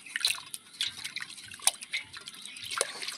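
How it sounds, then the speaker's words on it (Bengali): Water drips and splashes softly while fruits such as karamcha, lemon, hog plum, mango and jackfruit are washed for pickle, a quick irregular run of close, faint droplets and trickles. "করমচা, লেবু, আমড়া, আম আর এই কাঁঠালটাও ধুয়ে নেব"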